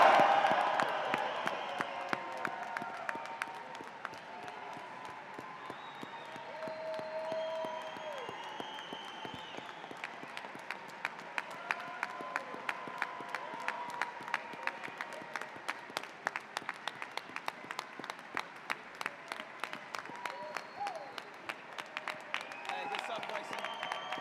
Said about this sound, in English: a round of applause for the class of